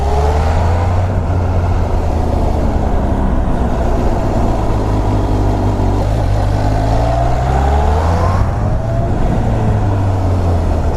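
A Kawasaki H2 SX supercharged motorcycle pulls hard along a country hill road, its loud, close engine note rising in pitch through acceleration, easing briefly twice as gears change, with steady wind rush throughout.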